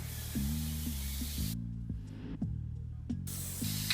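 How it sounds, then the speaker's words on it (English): Steady hiss of an airbrush spraying paint lightly over a face, cutting out briefly midway then resuming, over a low electrical hum with faint clicks. "I'm now going to spray over the face lightly"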